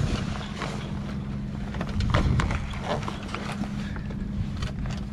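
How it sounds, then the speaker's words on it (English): A sailboat cruises under its mainsail near Catalina Island, with steady wind rush, water wash against the hull and intermittent creaks and knocks of rigging throughout. "We're cruising along right now with the main up."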